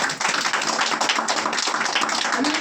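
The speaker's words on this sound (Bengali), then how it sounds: "তাহলে যারা যারা শত্রু হয়েছে এখনো তাদের জন্য বড় করে হাততালি দিয়েছে।" Audience applause at an indoor business meeting in Goghat, Hooghly: dense, steady clapping from many hands, loud and continuous throughout with no pause.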